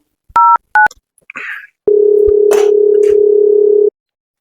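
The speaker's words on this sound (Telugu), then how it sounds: "సరే సరే ఫోన్ చేయి" A telephone keypad beeps a few dialing tones, followed by a short noise and then a steady, loud call tone lasting about two seconds on a phone call, close and alone with no talk.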